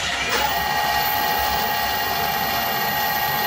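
An imperial metal lathe cuts a 1.5 pitch thread on a collet holder. It gives a constant, fairly loud machine hum with a faint steady whine throughout and no voices.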